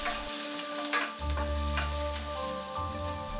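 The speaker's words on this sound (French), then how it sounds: "faire revenir 20 secondes l'ail et l'oignon, ajouter les poivrons, mélanger 30 secondes" Garlic, onion and peppers sautéing in a pan for a beef and pepper stir-fry, a constant sizzle with light stirring scrapes over a low background hum.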